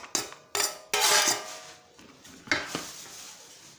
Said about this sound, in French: On met le tout dans un récipient.